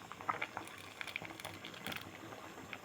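Rice boiling in a pot for a colostrum milk sweet, village style: a steady bubbling simmer with soft popping and patter, close and continuous, with no talk.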